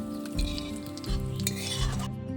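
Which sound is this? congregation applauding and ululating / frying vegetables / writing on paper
frying vegetables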